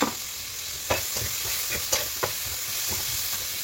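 Lentils frying in a pan with onion, a steady sizzle broken by several sharp scraping stirs of a spoon against the pan, close and fairly loud.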